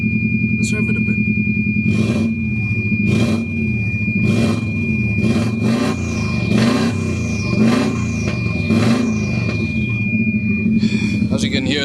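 A warmed-up 1994 Subaru Impreza WRX engine revving close by, with repeated sharp throttle blips rising and falling over a steady loud idle rumble.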